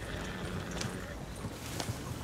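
Horse hooves clip-clop steadily in the Red Dead Redemption 2 video game, a moderately loud, continuous trotting rhythm under a wash of ambient game noise.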